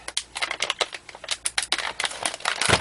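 Plastic Faraday bag being handled while a TRU SDX radio kit is packed, continuous rapid crinkling and rustling close up, with no talk.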